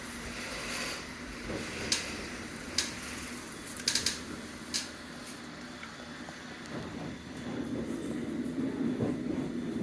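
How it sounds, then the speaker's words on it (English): A London Underground Metropolitan line all-stations train runs between Liverpool Street and Aldgate with a low, continuous rumble, scattered sharp rail clicks and knocks early on, and a swelling roar toward the end. "This here is an all stations Metropolitan line train to Uxbridge"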